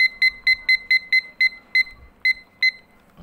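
A kitchen-style timer alarm set for ten minutes goes off with a rapid series of paired electronic beeps, about ten bursts in quick, slightly uneven rhythm, close and clear over a quiet room.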